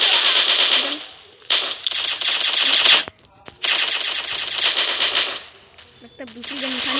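Rapid bursts of M4 rifle fire in the mobile shooter Cover Strike, two long loud strings of shots separated by a brief pause, with faint clicks and a short tail at the end.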